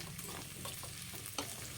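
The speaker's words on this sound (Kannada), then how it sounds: "ಈರುಳ್ಳಿನ ಇವಾಗ ಚೆನ್ನಾಗಿ ಫ್ರೈ ಮಾಡ್ಕೊಳ್ಳೋಣ" Onion slices fry in a little hot oil in a pan for a dry fish sambar, giving a soft, steady sizzle with a few brief scraping stirs. Quiet and close, with no talk.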